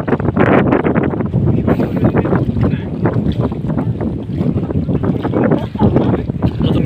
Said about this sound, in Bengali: আজকেও প্রতিদিনের অনেক বাতাস